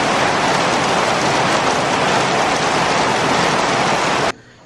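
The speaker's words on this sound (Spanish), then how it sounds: "suena muchísimo la lluvia." Heavy rain drums loudly and steadily on the roof of a lodging in the jungle near Tikal, Guatemala, a dense continuous roar with no voices, cutting off abruptly just before the end.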